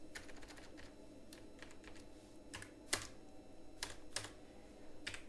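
Code being typed on a computer keyboard, soft irregular bursts of key clicks with a few louder strokes, close but faint, no talking.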